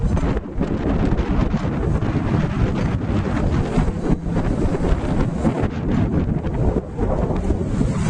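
Strong, gusty wind buffeting the microphone outdoors at Dunbar's, a loud continuous roar with brief dips, with no voices.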